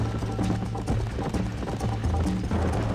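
A horse gallops in the Red Dead Redemption video game, hoofbeats thudding in a steady, fast rhythm over a dense bed of game sound, close and fairly loud throughout.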